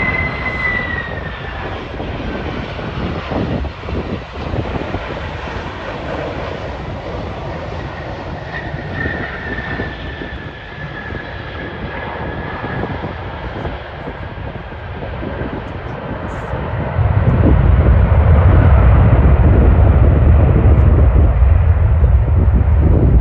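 A heavy jet airliner lands on runway 12 right at Minneapolis. A broad, steady engine roar builds slowly, then jumps to a loud, deep rumble for the final seconds.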